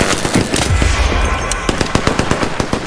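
Rapid gunfire in a video game firefight, loud close bursts of repeated shots followed by a steady rhythm of separate cracks.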